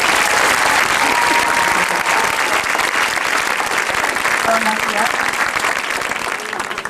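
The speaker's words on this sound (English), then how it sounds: "I'd like a round of applause for all of them." A school band audience bursts into sustained, dense applause that fills the room from start to finish, steady and loud, with a voice briefly speaking over the clapping near the end.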